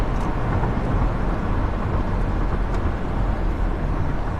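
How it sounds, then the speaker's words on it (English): A 1998 Mercedes E320 wagon with 81,000 miles pulls away from a stop sign under moderate throttle, heard from inside as a dense, steady engine and road roar. "Alright, stop sign, let's do an acceleration again."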